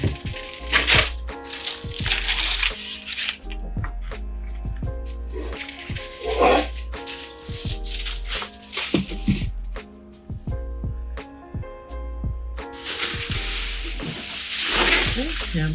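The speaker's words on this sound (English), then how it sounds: "And I'm gonna cover it with foil." Aluminum foil crinkled and pressed over a pot of beef and vegetables with rosemary and butter, sharp crackling bursts coming in waves with clattering handling noises between them.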